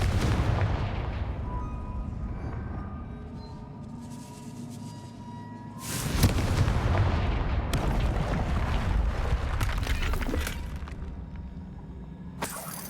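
Confringo spell blasts go off in the Hogwarts Legacy video game: booming explosive bursts, one big blast midway, then rumbling debris, set against a backdrop of game ambience and music.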